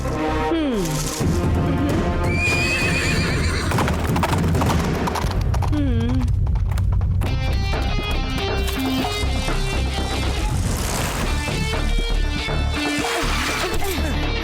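A wild horse caught in a hunters' trap, heard in a Tamil TV show scene: hooves clop amid loud, busy background music and effects, with a whinny rising briefly partway through.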